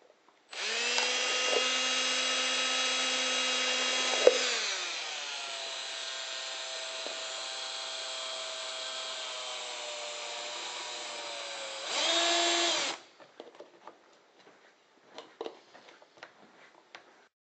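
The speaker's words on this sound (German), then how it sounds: "Zuerst werden die Löcher auf dem Plastikbecher vorgezeichnet und dann gebohrt." A power drill bores holes through a plastic cup while an electrolysis cup is being built, running steadily and loudly for about twelve seconds with a pitch shift partway through, then a few scattered clicks and taps.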